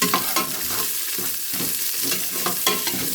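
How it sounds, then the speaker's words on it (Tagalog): Garlic and onion sautéed in oil for pork kaldereta, a close, steady sizzle broken by rhythmic scraping strokes of a spatula stirring the pan, with no voices. "Gisa-gisa lang natin hanggang sa maamoy yung mabangong aroma ng mga ricado."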